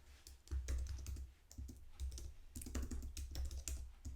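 Fast typing on a computer keyboard, with a steady patter of close, crisp key clicks in uneven bursts, recorded alone without speech.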